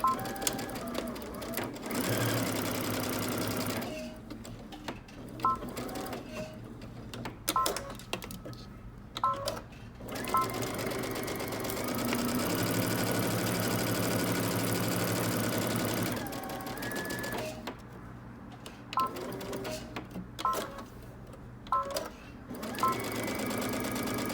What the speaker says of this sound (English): I'm going to be sewing with the interface side facing up, and we're using 5/8 of an inch seam allowance